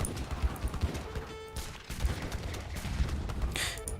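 Heavy cannons firing in a real-time strategy video game, a dense volley of sharp blasts and crackling impacts layered over game ambience, no talking.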